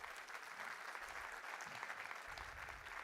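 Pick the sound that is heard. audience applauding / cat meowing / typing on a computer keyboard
audience applauding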